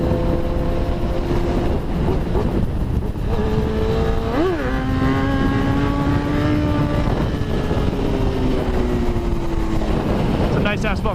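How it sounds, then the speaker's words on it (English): Car engine droning in a video game, a loud continuous hum with rising and falling revs that shift pitch midway, heard alone without talk. "Wait, is that the car? Making that noise?"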